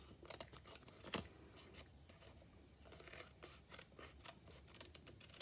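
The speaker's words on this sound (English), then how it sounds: "So I'm just going to come in with my scissors" Scissors trim thin acetate with quiet, close snips and rustles. The short cuts come in an irregular rhythm amid soft handling noises.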